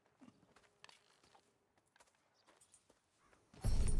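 A horse walking in the video game Red Dead Redemption 2: soft, sparse hoof clip-clops at a slow pace, then a sudden loud burst of sound near the end, with no one speaking.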